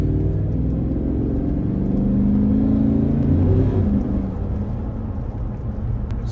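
Work truck driving with an SCT X4 tuner installed, a steady loud low engine and road rumble from inside the cab, rising slightly midway, with no talk.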